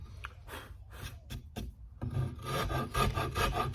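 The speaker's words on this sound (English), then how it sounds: "And I'm using a Nicholson number 49 rasp." A Nicholson No. 49 wood rasp carves the headstock volute of a guitar neck, giving scratchy rasping strokes, a few separate passes and then faster continuous filing, close and fairly quiet.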